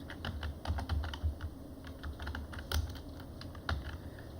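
Fast, irregular keystrokes clatter on a computer keyboard as code is written, close and fairly quiet, with a few louder key hits standing out.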